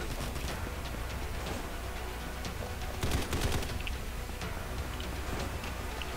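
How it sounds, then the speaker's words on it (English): Bursts of video game gunfire in a combat shooter, quick crackling shots over a dense, loud steady game soundscape, with a heavier cluster of shots midway and no talk. "Guy shooting at me."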